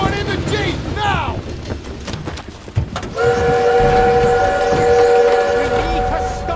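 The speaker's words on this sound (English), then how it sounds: "We need to stop that train!" A train in the video game Call of Duty: WWII rumbles close by and then blasts a loud, sustained whistle that holds steady over its roar, with shouted voices heard over it early on.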